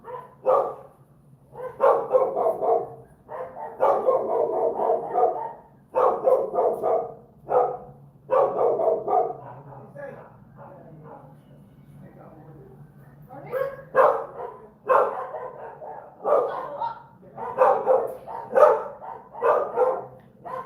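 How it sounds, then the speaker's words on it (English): Several dogs bark in repeated bursts over about twenty seconds, fairly close and loud, with short pauses between volleys and a steady low hum underneath; no one speaks. "Somebody got the dogs doing the most."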